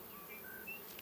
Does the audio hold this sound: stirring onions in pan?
no